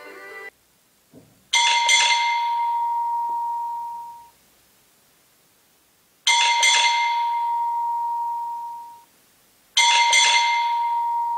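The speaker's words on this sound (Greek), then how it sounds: "ακούστηκε το κουδούνι της πόρτας." A house doorbell rings three separate times, each a bright, clear chime that slowly fades, with short silences between the rings and no voices.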